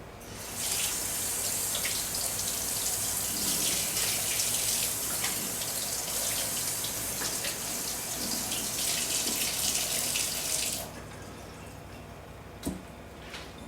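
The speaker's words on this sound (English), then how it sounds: "We'll rinse it off." Pork rinsed under a running kitchen tap, a steady loud hiss of flowing water for about eleven seconds that then cuts off, leaving quiet room sound and a single sharp knock.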